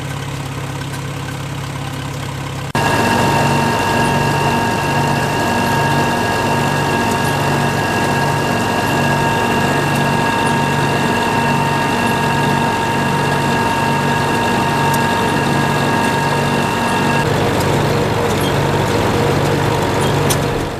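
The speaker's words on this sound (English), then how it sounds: "We're back now with the International Peg Drum, and we're going to drive it with this W6." An International W6 tractor's engine starts up and runs steadily, driving a wartime International peg drum thresher, with a loud continuous mechanical drone and hum that drops slightly near the end.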